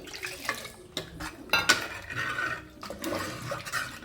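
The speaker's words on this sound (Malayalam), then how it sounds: "ഇച്ചിരി കൂടെ വെള്ളം ഒഴിച്ചു കൊടുത്ത് നന്നായിട്ട് ഒന്നും കൂടെ തിളപ്പിച്ചിട്ട്" Water poured into a pot of sambar, a close splashing pour broken by clinks of a vessel and utensils, in uneven bursts with no voices.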